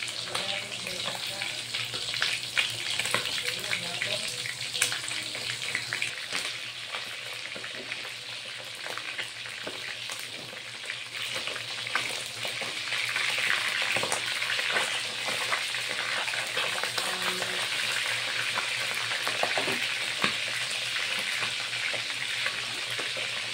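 Fish fries in hot oil for a Filipino ginataang isda, giving a continuous crackling sizzle with scattered sharp spatter pops and faint background noise, but no talking.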